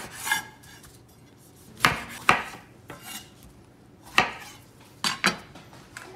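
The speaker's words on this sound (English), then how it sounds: "So we're gonna cut the tops and bottoms" Knife slicing the tops and bottoms off tomatoes on a cutting board, a few sharp scraping cuts spaced out with quiet pauses between, close and fairly soft.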